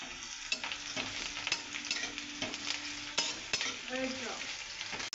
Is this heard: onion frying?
yes